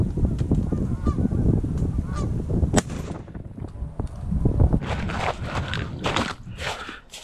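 A flock of geese flies overhead during an afternoon goose hunt over an ice-hole spread, their honking calls building from a distance to loud and close. A sharp crack, probably a shot, comes midway.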